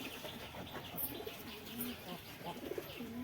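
Several pigeons in a home loft, including Lotan and tail-marked fancy breeds, coo low and rhythmically close by, mixed with light chirps and a brief flutter of wings.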